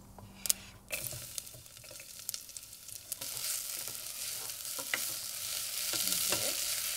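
Mustard seeds, onion and garlic frying in hot oil, a steady broadband sizzle with scattered sharp pops and clicks from the bursting seeds, growing louder and denser toward the end with no voices.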